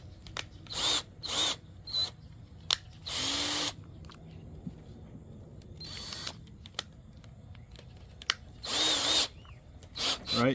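A power drill spinning G8Tor dryer vent cleaning rods, short loud whirring bursts with pauses between them, nearby, with faint clicks in the quiet gaps.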